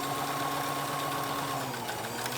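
A sewing machine stitches fabric for a three-layer cloth mask, a close, loud, steady mechanical whir with a constant hum and no break across the whole stretch.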